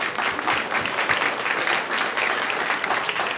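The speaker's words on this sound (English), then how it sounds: "let's give a big round of applause to all the devotees who have joined us" A crowd of devotees at an ISKCON temple talk claps steadily in a dense wash of applause, sustained throughout with no pause.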